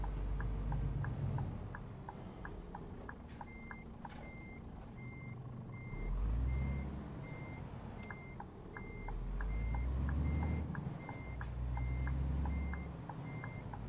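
A Scania truck reversing in the video game Euro Truck Simulator 2, its reversing alarm beeping in a steady repeated rhythm over a low diesel engine rumble that swells and fades, close and alone without talk.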